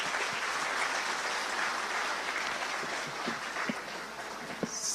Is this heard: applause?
yes